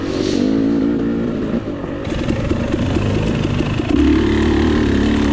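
A KTM 300 dirt bike engine roars loud and close during a 2022 VCHSS hare scramble round, held in third gear on a climb, with a continuous rough drone and slight rises in pitch.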